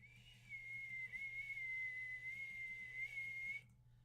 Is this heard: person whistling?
yes